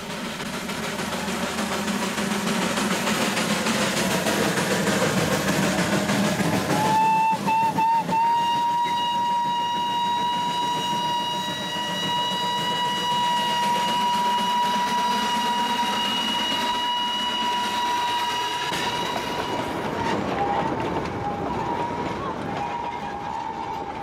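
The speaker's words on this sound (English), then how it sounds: "everyone along the way knows it's him by the sound of his whistle" An Indian railway locomotive runs along, its rumble constant, then a long, loud steam-style whistle sounds for several seconds with a brief second toot near the end. The train noise continues underneath throughout.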